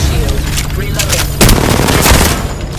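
Rapid automatic gunfire in the battle royale game Apex Legends, loud and dense, with sustained bursts that intensify sharply about halfway through and keep rattling to the end.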